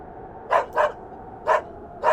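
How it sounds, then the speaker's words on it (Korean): A dog barks four times in short sharp bursts with irregular gaps, fairly close, over a quiet background in a horror radio drama sound effect. "개가 짖기 시작하는데"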